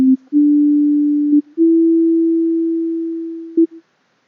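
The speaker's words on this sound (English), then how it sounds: "when I release the key, totally crazy things happen, and the note just goes really loud for a little bit" Synthesizer note holds a steady pure tone and slowly fades, then a brief loud bleep pops out as the key is released, with a couple of short blips earlier in the sustain.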